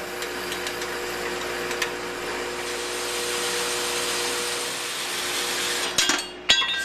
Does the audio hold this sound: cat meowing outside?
no